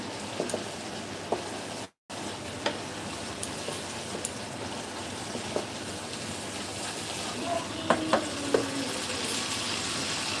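Chillies get stirred into a mustard hilsa curry in a pan, a soft continuous sizzle with occasional scrapes and clicks of a utensil, moderately close, briefly cutting out for a moment.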